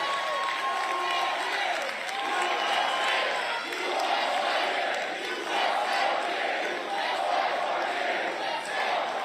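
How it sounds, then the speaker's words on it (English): A large rally crowd at a Donald Trump 2024 campaign event in New Hampshire chants in overlapping, uneven waves of "four more years" and "USA", mixed with clapping and general crowd noise, loud and continuous. "Looks like poorly timed, conflicting chants of 4 more years in USA."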